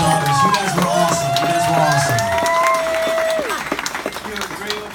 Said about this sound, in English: Round of applause for all three daughters.